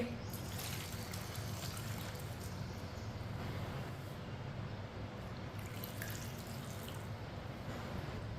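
Steady water pours into a pan of cut raw mango pieces, about one and a half glasses, for mango murabba; a continuous, close splashing rush runs unbroken throughout.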